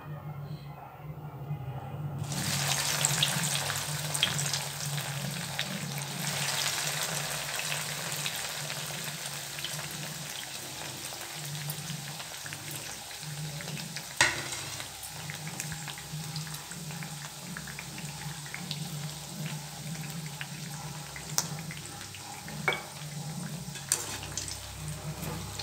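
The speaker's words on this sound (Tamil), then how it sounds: "இப்போது இந்த ப்ரெட் துண்டுகளை போட்டு பொரிச்சு எடுத்துக்கலாம்." Bread pieces deep-frying in hot oil in a kadai, a dense continuous sizzle that jumps up after a quiet start and holds steady, close by, with occasional louder crackles and no talking.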